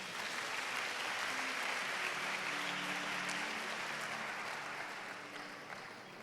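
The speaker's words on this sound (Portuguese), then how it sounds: "Dê uma salva de palmas." A church congregation applauds during a service, a dense steady roar of many clapping hands filling the room for several seconds before fading slightly.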